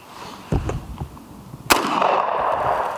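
A Henry Original carbine rifle fires one close, sharp shot that leaves a long reverberant rumble, preceded by a duller thump and outdoor background noise.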